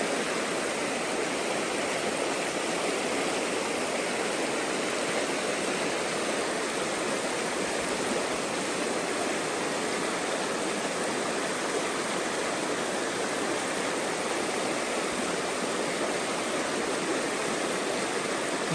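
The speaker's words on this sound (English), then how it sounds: "This little creek." Small Troublesome Creek off the Parks Highway in Alaska flows steadily, a continuous close rush of running water with no pauses and no voices.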